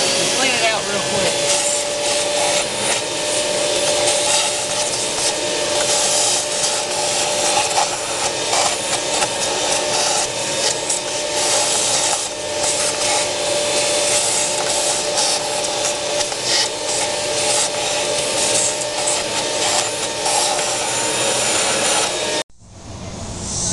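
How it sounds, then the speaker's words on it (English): A shop vac cleans debris from around the spark plug wells of a 2004 Pontiac Sunfire 2.2 Ecotec engine, giving a steady loud whooshing roar throughout that cuts off near the end. "So we're going to take a shop vac and clean it out real quick."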